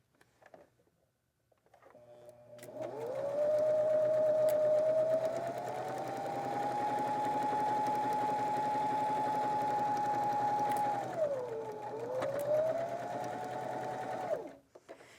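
A sewing machine stitches log cabin quilt squares in one long steady run of about twelve seconds, with a brief dip in speed near the end before it stops.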